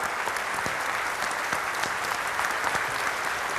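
Audience applause at a ceremony, a dense, even wall of clapping from a large crowd that holds steady throughout.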